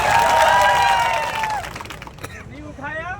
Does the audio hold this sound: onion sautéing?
no